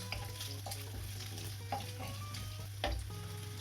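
Bacon frying in a pan for carbonara, a steady sizzle with occasional clinks of stirring, close and continuous throughout.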